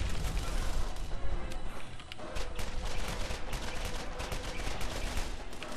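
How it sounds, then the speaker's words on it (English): Rapid repeater pistol fire in the shooter game Borderlands, a dense, continuous stream of close gunshots with other game noise layered over it and no pauses. "my repeater definitely doesn't shoot as fast as yours does"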